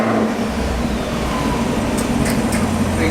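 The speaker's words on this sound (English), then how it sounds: "A cold start never hurt anybody." A ZL1 car engine runs after a cold start, a loud, steady, close rumble with a low droning hum that holds level throughout without pauses.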